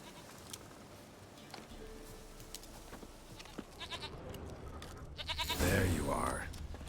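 A goat bleats loudly near the end in The Witcher 3, over a background of game ambience and a voice talking.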